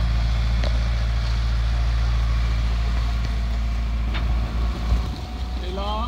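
A sailboat motors under engine power near the Dodecanese islands off Greece, its steady low drone continuous and fairly loud alongside wind and water noise, with no voices heard.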